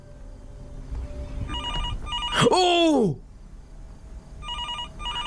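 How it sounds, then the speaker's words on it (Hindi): A telephone rings in the Fears to Fathom horror game, short bursts of electronic bell trills before and after a man's startled exclamation. "ओके टेलीफोन बज रहा है"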